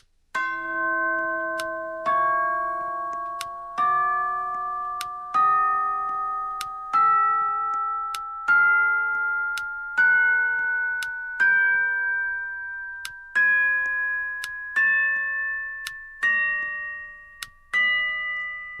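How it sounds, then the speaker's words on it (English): Chiming bells from a video game's large Christmas gift, about a dozen single struck tones rung one after another, each ringing out with a long fading tail and stepping through different pitches, clear and alone. "there's going to be 12 different sizes of bells that you can receive out of this large gift here, each with its own sound"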